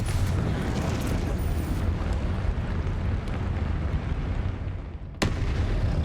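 A Confringo fire spell bursts in the Hogwarts Legacy video game, a dense, loud, rumbling blast of combat noise that carries on throughout, with a sharp crack near the end.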